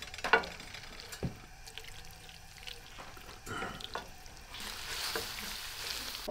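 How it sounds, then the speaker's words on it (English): Pasta sauce sautéing in a pan over a low gas flame, a soft sizzle and stirring scrapes with occasional clinks, growing a bit louder and hissier toward the end. "And now we saute a little bit."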